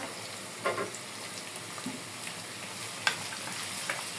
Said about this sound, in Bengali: পেঁয়াজ একটু হালকা ব্রাউন কালার করে নেব